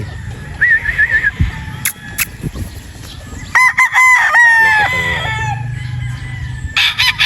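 Broodstag rooster crowing twice, once near the start and a longer, louder crow in the middle, with clucking and other fowl noises around it and brief bursts at the end; no talk.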